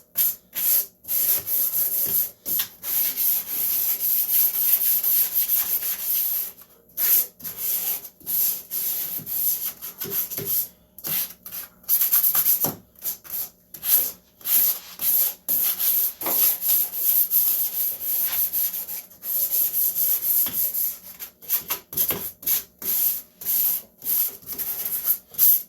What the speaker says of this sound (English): I would recommend anybody doing this type of work, get a couple of these sanding pads